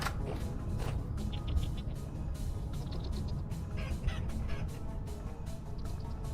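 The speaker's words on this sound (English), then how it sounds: "We do gotta get the chickens to breed, so let's give them some rice." Chickens in the survival game Vintage Story, fed rice to breed, give short repeated clucks and squawks over a continuous low ambient rumble, moderately quiet and without talk.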